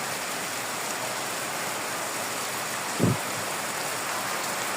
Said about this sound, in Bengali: দেখেন কি বৃষ্টি হচ্ছে